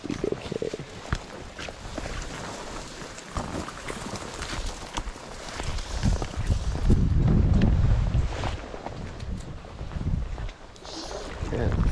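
Wind buffets the microphone during fly fishing on the Lower Owens River, a loud rumbling roar that surges and swells through the middle and never lets up.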